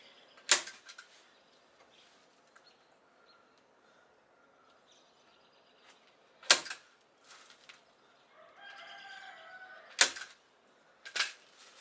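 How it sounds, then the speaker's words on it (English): A staple gun is fired while fleshing a raccoon hide, four sharp, loud isolated clacks spaced several seconds apart, with faint handling noise between them. "Even the staple gun don't want to work for me today."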